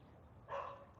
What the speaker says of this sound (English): we have the dog next door that's barking